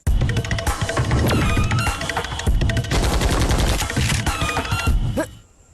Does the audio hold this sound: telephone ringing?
no